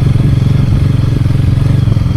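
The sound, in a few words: motorcycle riding on a dirt trail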